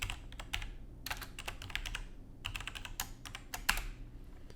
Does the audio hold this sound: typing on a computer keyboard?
yes